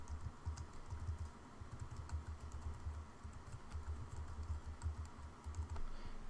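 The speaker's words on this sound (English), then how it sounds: "type in a website again" Rapid keystrokes on a computer keyboard while entering a website address, a steady run of light clicks and taps close by with no voices.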